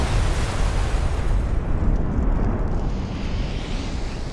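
A mansion is blown up in a spectacular, real demolition on The Grand Tour, a loud, deep, rumbling blast roar that sustains for several seconds before easing slightly.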